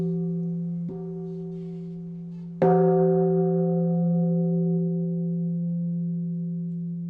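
A Buddhist temple bell at Moeunam hermitage on Mucheoksan rings, a faint earlier tap followed by one strong struck tone that hums on with a long, slowly fading resonance, alone with no voices.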